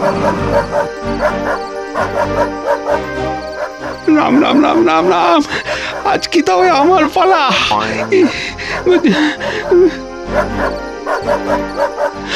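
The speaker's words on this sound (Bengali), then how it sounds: "ওই তো কুকুরটা ডাকছে" A cartoon dog yips, whimpers and barks in short bright bursts, mixed with a character's speech and background music.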